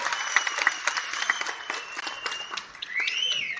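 An audience at a stage show in Dubai applauds a young singer with a steady patter of many hands clapping. Scattered cheers and whistles rise over the clapping, and a high whistle swoops near the end.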